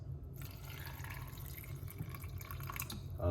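Almost a cup of water pours into a blender for a kiwi smoothie, a soft continuous splashing trickle lasting a few seconds, fairly faint and without talk.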